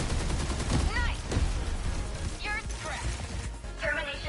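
Gunfire against enemies in the video game 13 Sentinels: dense rapid bursts of shots and impacts crackling throughout, loud and close, mixed with whirring mechanical game sounds.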